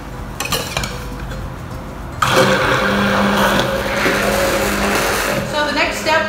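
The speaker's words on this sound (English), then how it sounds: "So in order to mix this small batch up, we're gonna be using an immersion blender." An immersion blender whisks a small batch of hydrated potato protein in a jar for egg-free vegan mayonnaise, starting after a couple of seconds of kitchen clatter and then whirring steadily and loudly to the end.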